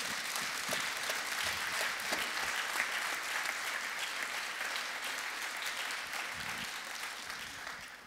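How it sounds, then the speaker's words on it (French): Audience at a forum session applauding, a sustained wash of many hands clapping at some distance, fairly quiet and steady for several seconds before easing slightly. "vous avez autant d'applaudissements que les Rolling Stones"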